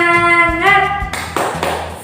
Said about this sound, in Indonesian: Lagi sekali, tepuk semangat